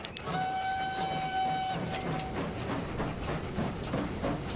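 A coal train in Transport Fever 2 sounds a long horn blast over a steady rolling rumble of wagons, then keeps clattering along continuously without voices.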